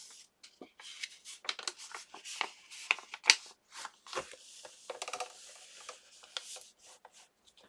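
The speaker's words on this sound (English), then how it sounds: "Maybe I should trim it with my scissors." Scissors trim a paper accordion booklet up close, a series of quiet, irregular snips and papery rustles spread over several seconds with soft handling sounds between cuts.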